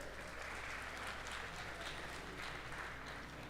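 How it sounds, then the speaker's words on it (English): A crowd at the Too Many Games 2021 convention claps steadily throughout, a dense continuous round of applause with a low hum underneath and no talking. "Nice big round of applause for"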